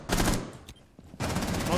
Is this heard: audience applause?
no